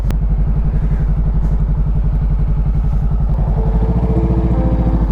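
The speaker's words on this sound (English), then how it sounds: "I have to use my throttle to stay up because it's such an incline." Motorcycle climbing an incline, a loud, close engine with a steady low throb that rises slightly in pitch toward the end as the throttle opens.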